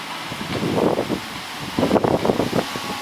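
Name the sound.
wind blowing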